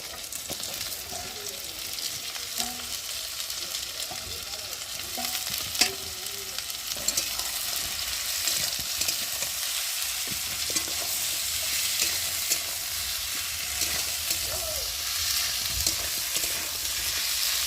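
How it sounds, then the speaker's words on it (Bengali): Thinly cut potatoes fry in a pan with garlic, giving a steady, quiet sizzle that runs throughout, with scattered scrapes and clicks as they are stirred. "আলুগুলো দিয়ে ভালো করে ভেজে নেব।"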